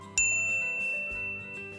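A single bright notification-bell ding strikes sharply, then its clear tone rings on and slowly fades, alone with no voice.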